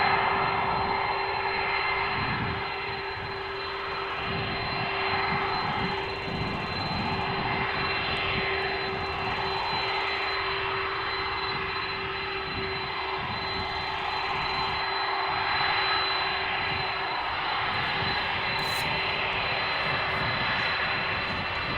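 Airliner engines at Amsterdam Schiphol Airport roar in a steady, broad drone that holds for over twenty seconds, rising and easing gently, heard from a distance across the open airfield with no speech.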